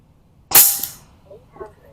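SnowPeak P35 air rifle firing an H&N hollow-point hunting pellet, one sharp close crack followed by a short decay and faint distant knocks, with no voice.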